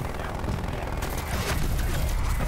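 An artillery barrage in Black Ops Cold War Zombies on Firebase Z pounds down as a dense, continuous roar of overlapping booms and blasts, loud and close, swelling heavier partway through.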